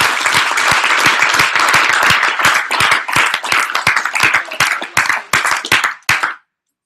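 A room of people gives a round of applause for Andrew Evans at a team gathering, dense clapping that is loud and close, then thins out into scattered claps before stopping abruptly.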